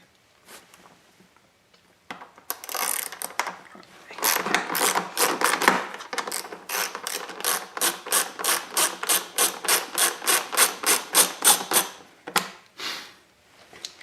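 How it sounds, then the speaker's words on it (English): Tools work loose the seat of a dirt bike, a long run of quick, even ratcheting clicks at close range after some scattered handling noise, with a brief pause and a few final turns. "I'm going to take out the seat here."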